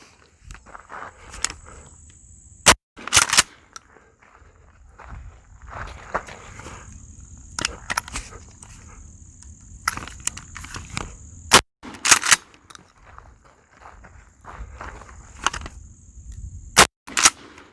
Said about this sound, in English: The first round will be the birdshot, followed by the Estate double-aught and the Federal double-aught.